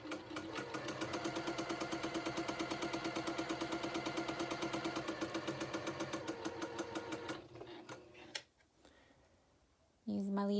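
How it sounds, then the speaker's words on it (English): Sewing machine stitching quarter-inch quilt seams either side of a marked line: a steady rapid mechanical clatter for about seven seconds that then slows and stops, followed by someone speaking. "now I'm just sewing 1/4 of an inch on either side of the marked line"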